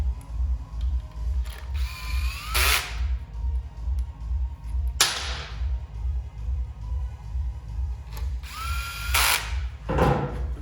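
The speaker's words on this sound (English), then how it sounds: "we're going to torque them to 16 foot-pounds with our torque wrench" A torque wrench ratchets and tightens bolts on a Baker 6-speed overdrive transmission for a 2006 CVO motorcycle build, with a few sharp bursts of close mechanical ratcheting over a steady, rhythmic low background throb.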